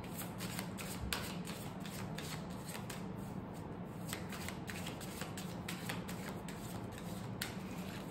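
Tarot cards shuffled continuously by hand at close range, a steady papery riffling and slapping that runs for the full stretch with no talk over it.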